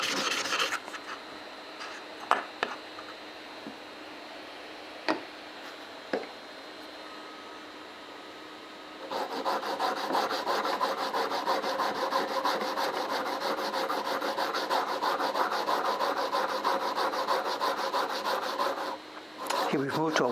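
A steel blade rubbed on a 1000 grit sharpening stone with light pressure during printmaking tool care: a steady, rhythmic gritty rasping starts partway through and continues close up to the end, preceded by faint scattered clicks and taps.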